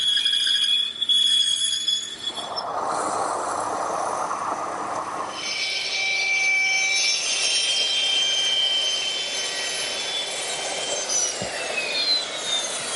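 A power saw cuts off the last screw on a wooden rocking chair in a woodshop, a sustained whining buzz that shifts in pitch partway through and carries steadily for over ten seconds with no talking.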